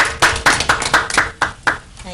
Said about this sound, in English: I guess we need to have a round of applause for Mary deciding to sit up here again.